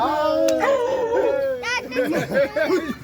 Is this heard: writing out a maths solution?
no